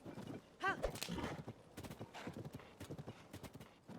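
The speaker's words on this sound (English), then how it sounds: "the whole thing with that golden horse is that it runs off" Golden horse hooves clip-clopping in the video game Zelda: Tears of the Kingdom, a quick rhythmic trot under a brief whinny and game sounds.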